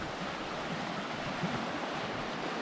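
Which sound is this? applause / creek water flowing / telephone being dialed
creek water flowing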